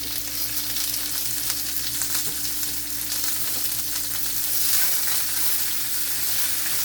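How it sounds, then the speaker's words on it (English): Chopped onions fry in a hot pan with a dense, steady sizzle and small crackling pops throughout, close up and with no talk. "We'll pop around a little bit, because of the moisture in the onions."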